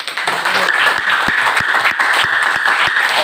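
A class of students in a classroom applauds, a bright, busy clatter of small hands with a few heavier rhythmic claps standing out at steady intervals, fairly close and loud.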